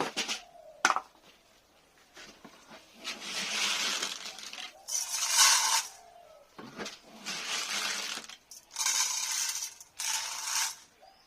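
Fresh feed poured for pigeons in a dark loft, grain rattling and clinking into a hard container in several bursts separated by quiet gaps, close and with no voices.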